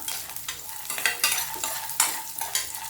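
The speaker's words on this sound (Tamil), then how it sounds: "இதையும் சேர்த்து நல்லா ஃப்ரை பண்ணிக்கலாம்" Ginger, garlic and grated coconut fry in a hot pan for a drumstick gravy paste, giving a steady close sizzle broken by repeated scraping stirs at an uneven rhythm, with no voices.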